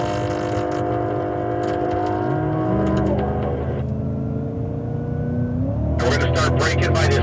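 A race car roars as it accelerates on a track, its engine note climbing steadily through gears, loud and close. A sharp burst of higher mechanical noise comes near the end.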